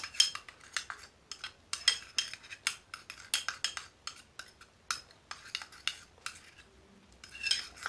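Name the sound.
stirring a cream with ginger and cinnamon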